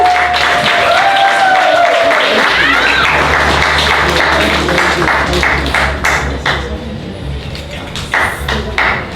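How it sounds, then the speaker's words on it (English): Clapping from an audience at a film festival event builds and then thins out, with some bright pinging tones and scattered thuds mixed in early on. "Let's give a round of applause"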